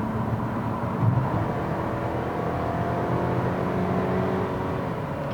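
A 2018 GMC Terrain Denali accelerating to highway speed, heard as a steady, fairly loud engine and road drone from inside the cabin that swells slightly, with no talking.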